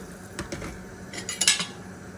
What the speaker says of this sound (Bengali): মাছগুলো দিয়ে আমি একটু নাড়াচাড়া করে নেব